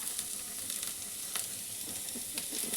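Two large chopped onions fry in two tablespoons of hot oil, a steady close sizzle with soft crackles and the occasional scrape of stirring.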